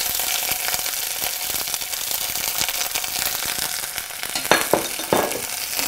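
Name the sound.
cashews and green chilies frying in a pan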